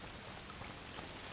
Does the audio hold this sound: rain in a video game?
yes